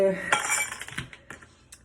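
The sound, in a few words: pull tabs from juice cans clinking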